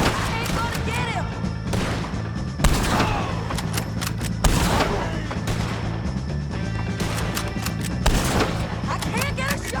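Gunfire in a Red Dead Redemption 2 shootout against O'Driscolls, with repeated loud shots and bursts cracking over a busy background, mixed with game music.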